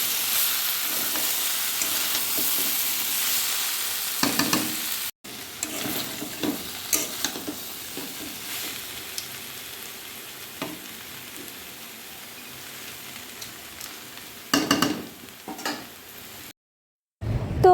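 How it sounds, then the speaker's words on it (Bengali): Potatoes, jackfruit and chicken stir-fry together in spiced oil for a Bengali jackfruit chicken curry, giving a steady close sizzle. A spatula scrapes and stirs in bursts, with a brief cut to silence midway and another near the end. "আলু, এঁচড়, চিকেন সবগুলো একসঙ্গে দিয়ে এবার ভালো করে কষাবো এটাকে।"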